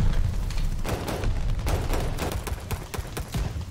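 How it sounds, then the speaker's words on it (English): Gunfire in the video game Call of Duty Vanguard rattles in rapid, loud repeated shots with booming bursts, close and continuous with no talk. "They make guns sound more realistic"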